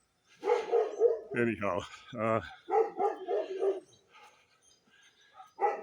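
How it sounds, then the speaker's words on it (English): Neighborhood dogs bark in a string of loud, close yaps and woofs, several in quick succession, with a voice briefly talking partway through. "some of the neighborhood dogs don't particularly like us walking by"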